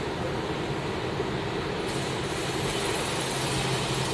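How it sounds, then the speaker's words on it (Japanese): A train pulls in at a platform at Naebo Station, Hokkaido, a steady low rumble and rolling rail noise that holds evenly and fairly loud, with no voices. "5番線に列車が到着いたします。"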